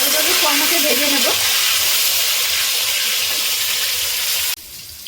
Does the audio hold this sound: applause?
no